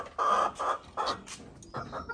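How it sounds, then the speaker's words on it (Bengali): Layer hens in a small backyard farm cluck in a close, fairly quiet series of short, rhythmic calls separated by brief pauses, with no talk. "লেয়ার মুরগির"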